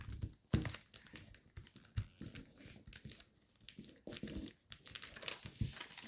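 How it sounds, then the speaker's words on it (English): Paper being folded into an origami fighter jet crinkles and rustles up close in irregular soft bursts, with small creases and taps, quiet overall with no talking. "You can fold them out before you fold out this big flap."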